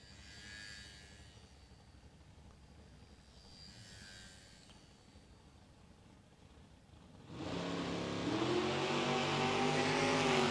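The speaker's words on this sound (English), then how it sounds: "A Vega with a V8." A big block Chevrolet V8 in a Chevrolet Vega drag car idles faintly at a drag strip meet, then erupts into a loud, sustained full-throttle launch roar that holds steadily to the end.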